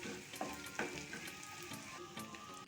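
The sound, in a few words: lightly frying cinnamon, cumin and grated garlic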